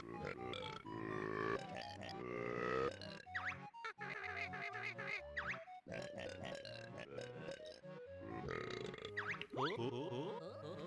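Burping sound effect from the Banjo-Kazooie video game, a series of gurgly, grunting bursts layered over busy, continuous game music with no speech.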